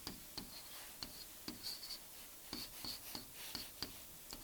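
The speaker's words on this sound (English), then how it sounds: "Let me just write off on the side so that we know and I don't have to write it a second time." Pen writing on paper during a math lesson on related rates, faint steady scratching with small regular taps as strokes start and stop, quiet and close with no voices.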